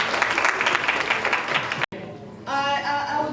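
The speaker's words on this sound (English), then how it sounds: "Give them a round of applause." Audience applause at a Women's Day conference, a dense burst of clapping for about two seconds that cuts off abruptly, followed by a quiet gap and then a speaker talking.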